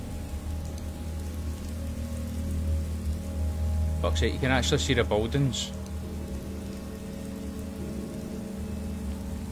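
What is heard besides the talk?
rain from raindrop mod in video game Fallout 4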